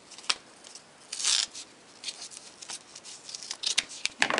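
Scissors snip through paper being trimmed down for a handmade thank you card, a few close, crisp cuts with brief rustling of the sheet between them and no talk.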